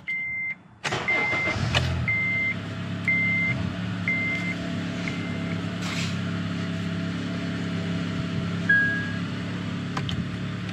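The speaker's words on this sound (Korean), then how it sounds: "시동을 다시 걸어볼게요." A 2010 Acura TSX with the 2.4 engine is started nearby: a chime and brief crank give way to a steady idle hum, joined by intermittent warning beeps over the first several seconds, with no talking.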